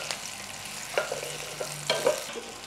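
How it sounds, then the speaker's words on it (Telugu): Bitter gourd and onion fry in a pan with a steady close sizzle, while a spoon stirs and scrapes through the pieces with a few soft knocks against the pan. "medium flame and high flame మీద మంచిగా ఇట్లా ఫ్రై అయింది"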